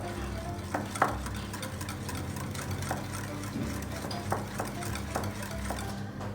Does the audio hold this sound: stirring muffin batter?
yes